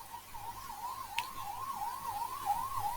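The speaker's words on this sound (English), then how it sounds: "Ignore the ambulance noise outside," A wailing ambulance siren rises and falls continuously outside, sounding somewhat distant and muffled, with no voices present.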